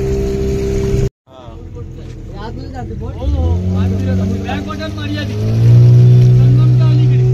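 A motorboat carrying a group of passengers, with side supports for balance, runs at sea on a trip off Malvan, its engine droning steadily and rising louder near the end, while people talk over it.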